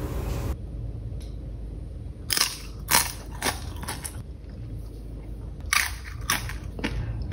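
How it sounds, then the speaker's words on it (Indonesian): Crunchy homemade potato chips being bitten and chewed, a few sharp crisp crunches in short bursts close to the ear over a quiet room background, with no talking. "itu tuh kriuk, crispy banget."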